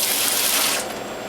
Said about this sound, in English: And I'll take a spray nozzle